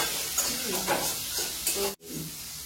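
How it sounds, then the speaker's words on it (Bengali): Taro pieces frying together in a pan, a steady sizzling hiss with soft stirring scrapes, close and fairly loud, broken by a short silent gap near the end. "আর এই যে কচু একসাথে আমি সবগুলো বসিয়ে দিচ্ছি, একসাথে করবো"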